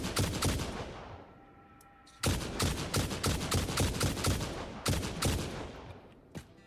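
Rapid bursts of automatic gunfire from a weapon in the video game Satisfactory, loud and sustained, with a short pause before a second long volley and a third one after it.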